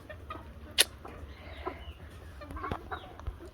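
Chickens at a small home poultry farm, with scattered soft clucks, one sharp high squawk and faint calls over low background noise, fairly quiet and close, no talking.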